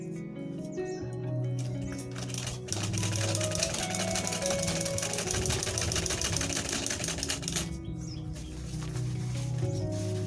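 A sewing machine top-stitching a double-zip flap bag runs in a fast, steady mechanical whir for several seconds, stopping briefly near the end, with faint background chirps.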